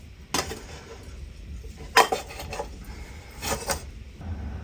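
Camping spork, pot and stove being handled: a few separate bursts of metallic clinks and rattles as the gear knocks together, close and moderately loud, with quiet gaps between.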